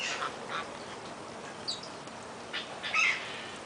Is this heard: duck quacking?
yes